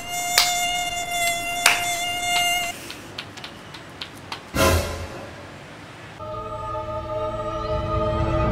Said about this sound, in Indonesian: Balik nyamuk lagi.